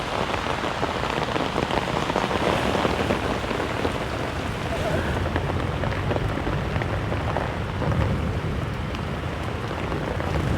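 Heavy rain pours down steadily onto the ground and surfaces around a newly installed dry well for stormwater, a dense, continuous hiss and patter with a low rumble underneath, loud and close throughout.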